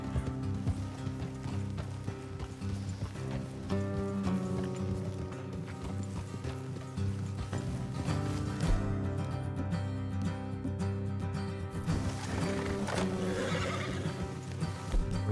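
Horses in the Red Dead Redemption 2 video game whinny and neigh several times over steady clip-clopping hooves, heard at moderate level amid ambient game sound with no talking.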